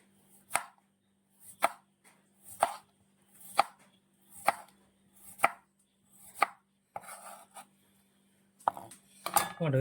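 Baby corn cut on a board with the back of a peeler: about ten crisp, evenly spaced chopping knocks, close and clear in a quiet room.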